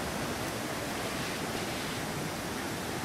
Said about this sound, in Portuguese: Já estamos chegando no ponto principal, que é a grande queda.